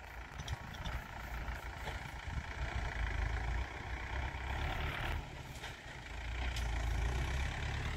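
A Mahindra Yuvo Tech+ 575 tractor engine runs steadily outdoors, a continuous low diesel rumble with no talk.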